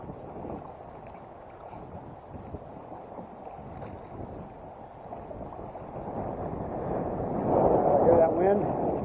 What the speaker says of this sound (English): Hear that wind?